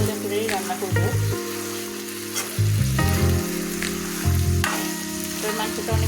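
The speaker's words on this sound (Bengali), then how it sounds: "আমি শুধু এটা ভাজা ভাজা করেই রান্না করব।" Broiler chicken fries in a pan with a strong, continuous sizzle that stays close and loud throughout, over a steady low tonal hum.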